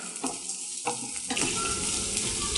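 Moong dal stir-frying in a kadai, a bright continuous sizzle broken by quick spatula scrapes and stirring strokes, close up and without any speech.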